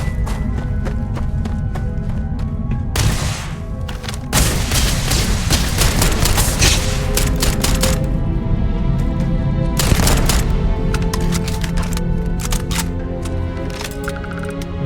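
Dense gunfire and explosions from a Starfield space combat firefight, loud and continuous, with rapid bursts of shots and heavy blasts layered throughout and no speech.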